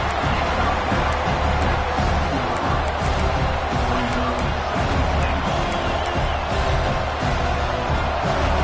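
A stadium crowd at a college football game roars in a steady, loud wash of cheering and whoops, with scattered claps and no break across the stretch.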